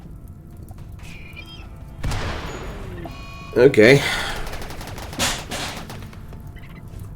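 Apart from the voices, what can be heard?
gunfire, lancers fighting squirrelopes in RimWorld video game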